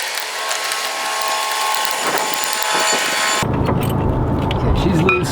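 A wrench ratchets on a long bolt under a car while dropping a manual transmission, a steady clicking that shifts to a lower, grinding mechanical sound partway through, close and loud.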